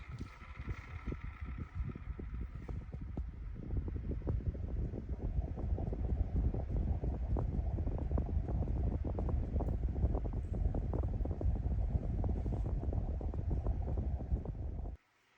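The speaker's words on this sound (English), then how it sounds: "we'll now go ahead and get into the demonstration of this fan. And it's only one speed, so here's on." A vintage GE 10-inch standard oscillating fan runs on its single speed, giving a steady, close whirring hum with low rumble and airy buffeting that stays even after a brief start-up, then cuts off abruptly.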